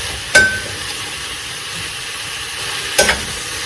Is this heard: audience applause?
no